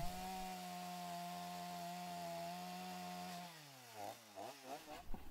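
A chainsaw drones steadily at high revs, then bogs down and rises and falls in pitch as it cuts lengthwise into wood for a sculpture.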